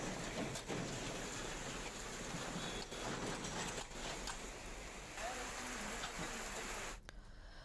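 Heavy monsoon rain in Ambikapur, Chhattisgarh, a dense steady roar of rainfall on surfaces, close and continuous, thinning abruptly near the end.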